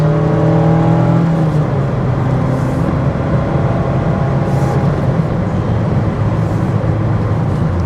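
Inside a 2023 Mazda MX-5 RF Miata hardtop, the engine drones and rises as the car accelerates, then settles into a steady loud roar of road and wind noise at speed.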